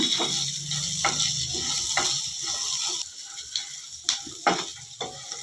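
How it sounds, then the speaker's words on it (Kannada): Chilies and chunks of onion fry in a pan for a festive Ugadi holige saru, a constant close sizzle broken by several sharp taps and scrapes of stirring. "ಒಂದು ಈರುಳ್ಳಿ ದೊಡ್ಡ ದೊಡ್ಡದು ಕಟ್ ಮಾಡ್ಕೊಂಡು ಹಾಕ್ಕೊತೀನಿ ಹಸಿ ವಾಸನೆ ಹೋಗೋ ಗಂಟ ಸ್ವಲ್ಪ ಫ್ರೈ ಮಾಡ್ಕೊಂಬಿಡೋಣ"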